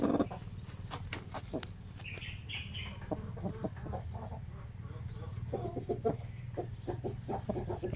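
Broody hens cluck softly in short, scattered bursts, fairly close, over a low background hum, with a few faint bird calls.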